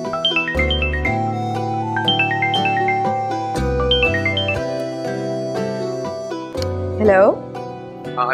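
A mobile phone ringtone plays for an incoming call in a Pakistani drama film, a repeating melodic tune with falling note runs, loud and clear, followed briefly by a short sweeping tone.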